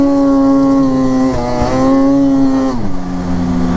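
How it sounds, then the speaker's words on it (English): A Polaris Assault 144 snowmobile with a 1.6-inch paddle track pounds through snow drifts, its engine whining loudly and close, with the pitch wavering over the bumps and then dropping near the end. "that assault just pounded through the drifts"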